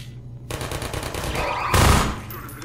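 Rapid automatic gunfire in a Half-Life 2 firefight on maximum difficulty, a dense burst of shots followed by a louder, heavier blast near the end.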